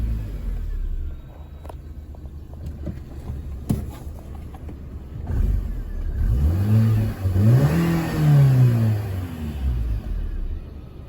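An R50 Mini Cooper's engine cranks and starts after a few clicks, then settles into a close idle and revs up and down in rising and falling swells, loud and without talking.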